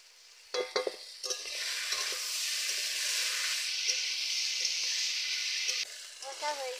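Boiled banana flower and potatoes sizzle steadily in a pan, with scraping stir strokes in short bursts at the start and end and a loud continuous frying hiss between them.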